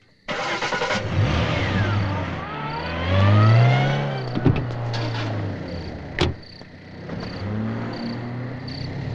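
A car engine starts and revs, then the vehicle pulls away and drives off, the engine note rising and falling with a loud surge midway and fading into a quieter idle-like hum with a few sharp clicks.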